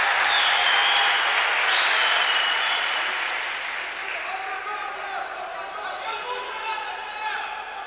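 Applause from a judo championship crowd rolls loudly at first, then gradually fades to a softer patter, with voices and arena chatter mixed in.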